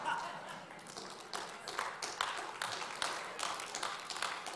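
A church congregation claps during a sermon, scattered sharp claps and taps in quick irregular bursts, fairly faint, with a voice talking over them.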